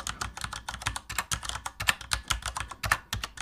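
Rapid keystrokes clatter in a steady, uneven stream for a typewriter typing effect, each sharp click distinct and close, about a dozen or more strikes with no voices.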